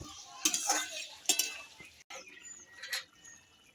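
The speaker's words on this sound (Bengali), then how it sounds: "এবার আমি দিয়ে দেবো এই ডালের বড়িগুলো, দিয়ে একটু নাড়াচাড়া করে নেব।" Lentil dumplings (bori) are stirred into a simmering curry, with a few close metallic scrapes and clinks of a spoon against the pan in short bursts, separated by quiet gaps and set against faint background noise.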